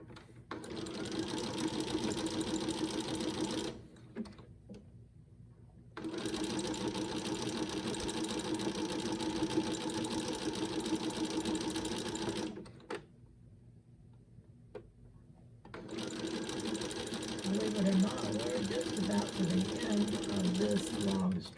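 Sewing machine stitching over fabric scraps, running in three long buzzing bursts with rapid ticking needle rhythm, separated by short pauses, close and steady.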